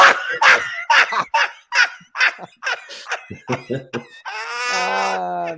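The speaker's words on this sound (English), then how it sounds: "just a dog, mate. It's just a dog." A dog barks in a rapid series of sharp, loud yips and barks, about a dozen in quick succession, ending in a drawn-out whining howl, close and alone.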